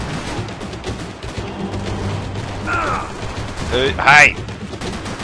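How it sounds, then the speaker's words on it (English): Gunfire from enemies in the video game Max Payne 3, a clattering burst of shots and mechanical noise under steady game sound, with someone shouting briefly. "Oh, you guys are shooting."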